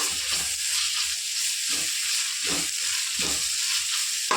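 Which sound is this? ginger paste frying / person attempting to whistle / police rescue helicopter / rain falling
ginger paste frying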